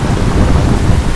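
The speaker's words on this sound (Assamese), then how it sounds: "পুৰা হেভি বৰষুণ দি আছে" Heavy rain comes down hard with a loud, rough roar and low wind rumble. The burst is brief and close, and no one speaks.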